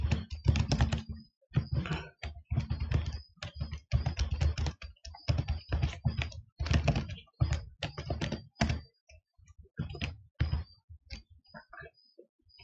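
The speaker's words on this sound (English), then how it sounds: "to log in with SSH, you just type SSH, username james, and the IP" Someone types steadily on a computer keyboard, with bursts of clicking keystrokes and brief pauses between them, close and clear and without speech.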